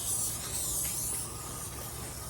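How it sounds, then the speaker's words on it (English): Spray hissing onto a moss-covered rabbit topiary for Easter, a steady close airy hiss lasting a couple of seconds with no voices. "You can spray it right here on the top."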